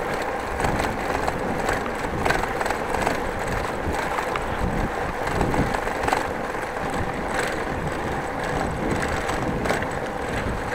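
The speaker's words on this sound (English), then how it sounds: "Sounds like my bike is rattling apart" Bicycle rattling and clattering steadily while riding through the streets of Groningen, a busy, rough jangle of loose parts over the rush of moving air, with no talking.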